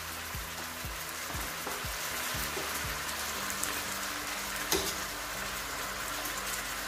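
Chopped, peeled tomato sizzles steadily in a hot pan. A dense, even hiss runs throughout, with a few soft low thumps near the start.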